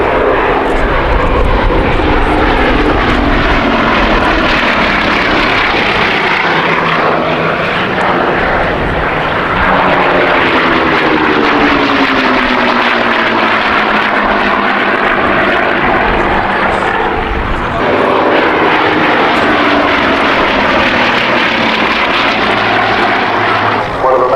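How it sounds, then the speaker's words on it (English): A loud 1945 propeller aircraft with a rough, throaty radial engine roars past up close, its pitch sweeping downward as it passes, then another pass follows. "the radial engines, quite a different sort of beast, different sound"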